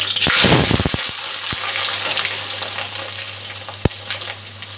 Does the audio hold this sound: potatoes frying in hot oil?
yes